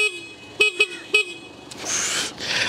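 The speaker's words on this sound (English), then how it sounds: "horn check for the Yamaha PG-1" Horn of a Yamaha PG-1 small motorcycle, giving three short, loud toots in quick succession, followed by a brief whooshing noise of movement or wind.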